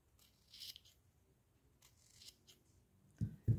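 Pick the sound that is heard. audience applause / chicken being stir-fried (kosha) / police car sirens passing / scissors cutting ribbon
scissors cutting ribbon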